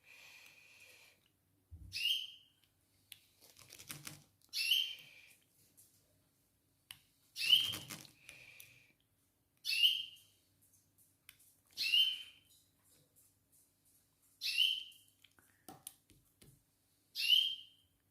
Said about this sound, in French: Là, vous entendez mes oiseaux, mes canaris.